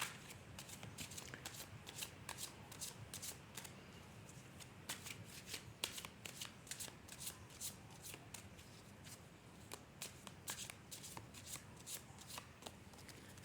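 A deck of tarot cards being shuffled close up, with a steady run of soft riffling and flicking bursts repeating throughout, quiet and alone without speech.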